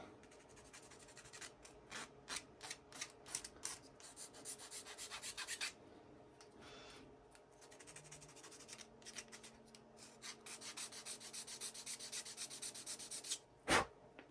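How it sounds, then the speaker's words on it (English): Sanding and filing along the back edge of a 3D printed part, heard as rapid rhythmic rasping strokes in close, quiet bursts, with a short pause midway and a sharp knock near the end. "you can easily file it down or sand it off. Clean up that back edge a little bit."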